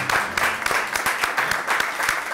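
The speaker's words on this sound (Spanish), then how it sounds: "Un aplauso para la platea." A live television studio audience applauds: dense, sharp clapping with a steady rhythm, loud and close, filling the whole couple of seconds with no voices over it.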